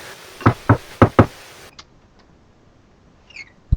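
Four sharp knocks rap on a door in a quick, uneven pattern, loud and close, followed by near silence with a couple of faint clicks and a final thud.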